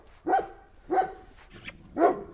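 Four sharp barks from a dog at a Burdur kennel, evenly spaced about half a second apart, close and clear with no talk over them.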